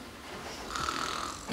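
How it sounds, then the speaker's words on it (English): Snoring from an actor during a school stage play, one drawn-out rasping snore at moderate level, with faint room noise around it and no talk. "Don't snore."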